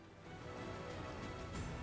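Steady rain falling in the open-world shooter Dysterra, a dense continuous hiss of rain on surfaces, quiet and even throughout with no talking.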